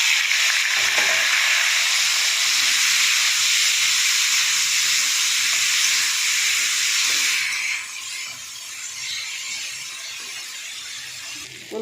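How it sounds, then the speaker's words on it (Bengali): Shrimp tipped into hot oil in a pan after garlic and green chillies have fried, producing a loud, dense hissing sizzle that holds steady, then drops to a quieter, softer frying sound for the last few seconds. "রসুনটা ভাজা হয়ে গেছে, এবার আমি চিংড়ি মাছগুলো ঢেলে দেবো"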